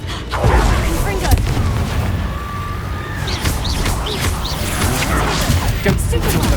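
A Confringo fire spell blasts during combat in the Hogwarts Legacy video game, dense booming crashes and rumbling impacts filling a loud battle din, with a voice speaking over the effects.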